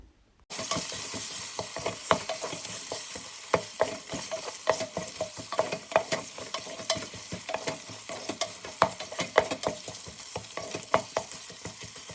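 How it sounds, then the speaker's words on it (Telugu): Chopped tomatoes for biryani are stirred in a hot pan, a soft steady sizzle broken by frequent rhythmic scraping strokes of a spoon, close and fairly quiet. "మనం ముందుగా కట్ చేసి పెట్టుకున్న టొమాటోస్ వేసుకుంటున్నాము సో టొమాటోస్ వేసుకొని బాగా మిక్స్ చేయాలి"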